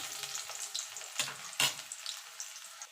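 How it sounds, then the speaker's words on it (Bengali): Garlic and dried chili fry in a pan with a soft, steady sizzle broken by a few sharper stirring scrapes, close and fairly quiet, without talk. "এবার দিয়ে দেবো রসুনটা রসুনটা একটুখানি ভাজা ভাজা করে নেবো"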